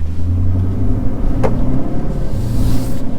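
Lexus GSF with an Apexi midpipe exhaust, heard from inside the cabin: a steady low engine and exhaust drone, subdued and muffled, with one short sharp click partway through.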